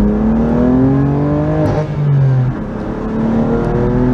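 2019 BMW M2 Competition with a Dinan upgrade accelerates on a highway, its engine note climbing loudly and close, dipping briefly at a gear change, then rising again.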